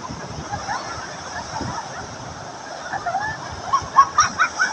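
Big waves breaking on Patar white sand beach in Bolinao, Pangasinan, make a steady broadband wash of surf that stays fairly soft throughout. A few voiced syllables rise over it near the end.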